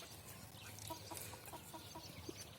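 Young chickens and a rooster cluck in a backyard coop, a cluster of short, close calls and chirps over a low background murmur.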